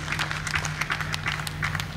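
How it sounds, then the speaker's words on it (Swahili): A crowd applauds the President at a public address in Tanzania. Steady, dense clapping runs through the whole stretch at moderate loudness. "Hebu tumpigie makofi Mheshimiwa Rais kwa kumgundua adui."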